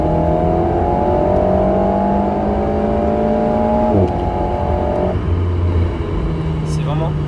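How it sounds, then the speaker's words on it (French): A small four-cylinder engine in an Alpine A110 Edition GT pulls hard through the revs, its tone climbing steadily, dropping briefly at a gear change, then rising again, loud and close. "C'est un petit 4 cylindres, c'est vrai, mais ça chante bien"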